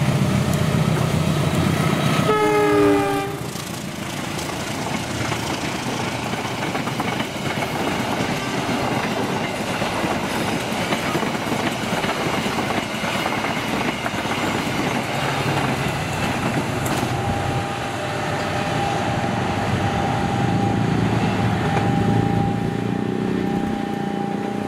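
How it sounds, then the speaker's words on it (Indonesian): The Bangunkarta 122C passenger train on an Indonesian line rolls past from the west in a loud, sustained rumble with rhythmic clickety-clack of wheels over rail joints, a brief tonal blast near the start. "ini langsung mau lewat lagi dari arah barat, yaitu kereta api Bangunkarta 122C"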